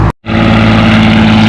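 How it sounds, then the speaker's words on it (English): A Farmall 460 tractor roars under heavy load during a tractor pull run, a loud, steady engine drone with strong low harmonics that cuts out briefly near the start, then holds constant and close. "here comes Dick on his 460 Farmall."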